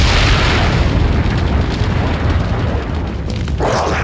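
A bomb goes off in Resident Evil 4 Separate Ways with a loud, close, rumbling boom that rolls on for several seconds, then tails off into a fainter burst.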